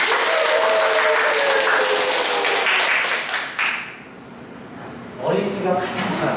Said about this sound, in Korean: 다시 한번 우리 박수 한번 쳐볼까요?